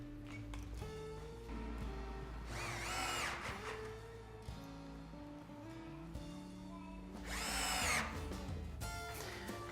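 A power drill drives supplied screws to fix legs onto a kitchen base unit, with two loud whirring bursts of the motor separated by quieter handling clatter and tool noise, close up and with no talk.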